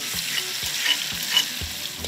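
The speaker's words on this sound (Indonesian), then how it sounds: "Tumis bumbu yang telah dihaluskan hingga harum." A ground paste of chili, garlic and shallot sizzles as it is sautéed in a pan, with a steady frying hiss and a few soft scrapes of a stirring utensil, no voices.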